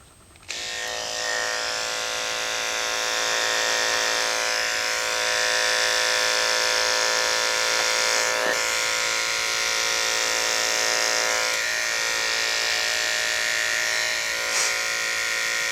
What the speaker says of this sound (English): We'll start out today by using a clipper to take the hair from bottom of the toes.